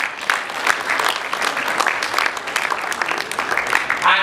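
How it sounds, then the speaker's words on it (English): A dinner audience applauds steadily, dense clapping from many hands filling the room with continuous, fairly loud rattling and no pauses. "I wish we could clap for them the more."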